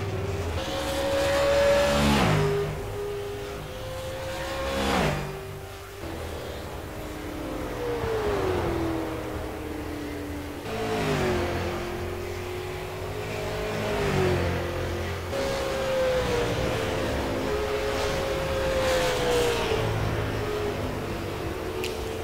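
A race car in a racing video game runs a qualifying lap, its engine revving up through the gears in repeated rising pulls, then dropping as it brakes for corners, loud and continuous throughout.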